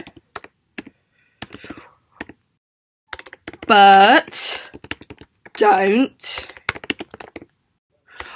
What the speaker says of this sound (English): I really am struggling with my typing.